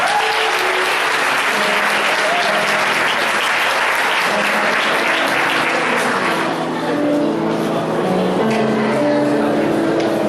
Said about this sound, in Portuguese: Com a mão lá no céu, aplauda ao Senhor Jesus Cristo.